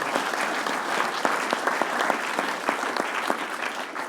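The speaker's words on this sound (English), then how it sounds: "So quick round of applause, if you would, for Marion Eggert." A conference audience gives a quick round of applause for a retiree, with a steady wash of clapping and a few sharper individual claps standing out near and clear.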